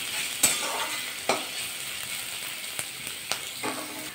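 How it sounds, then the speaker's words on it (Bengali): Chopped onions sizzle in hot oil in a pan while a utensil stirs them, giving a soft steady frying hiss broken by about five sharp scraping strokes at irregular intervals, close and without speech. "পেঁয়াজটা নাড়াচাড়া করে হালকা করে ভাজা করে নেবো প্রথমে।"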